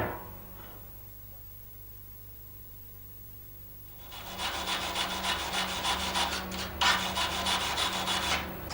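Tack welds on metal are cleaned by hand with steady, close rubbing and scraping strokes that start after a few quiet seconds and continue in a rough, even rhythm.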